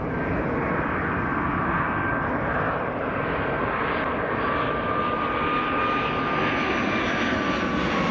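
Steady, loud roar of an airplane engine in flight, a constant broadband drone with a faint whine, continuous and unchanging throughout.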